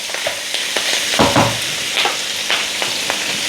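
Pork adobo fries in hot oil as it is stirred and sprinkled with water, a close, loud, continuous sizzle with sharp crackling bursts and brief scraping stirs.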